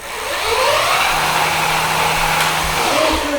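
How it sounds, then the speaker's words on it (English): A Magician Alpha 72-volt electric bike motor accelerating, a loud steady whirring drone with a rising whine and rushing wind, continuous throughout and close. "that thing is moving and it is very quiet for the kind of power it's putting out"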